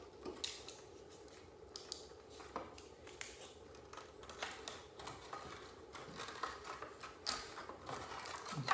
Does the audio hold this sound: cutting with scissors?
yes